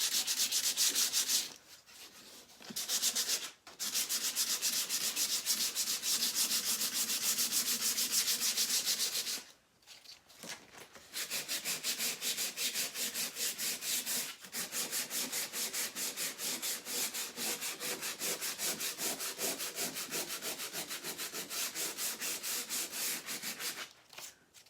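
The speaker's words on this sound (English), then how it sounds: "So the cracks of the palette board, sand those down a little bit so they look worn." Sandpaper rubbing over a wooden pallet board, steady close rasping strokes that run for long stretches with a few short pauses between passes.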